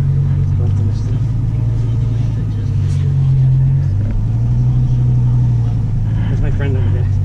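Inside a Dodge Viper on a track day, a deep steady engine drone hums loud and close, shifting slightly in pitch as the car cruises, while people talk over it.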